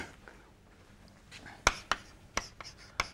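Chalk or marker strokes on a board in a lecture hall, a run of quick tapping and scraping contacts with a few sharp knocks, close and moderately loud, with faint room noise and no talking over them.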